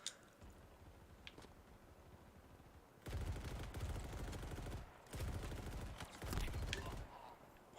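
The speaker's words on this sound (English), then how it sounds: "Someone else started shooting at me" Gunfire from a Halo Infinite multiplayer match breaks in after a quiet stretch, with two long bursts of rapid automatic shots separated by a short pause, fairly loud against low background noise.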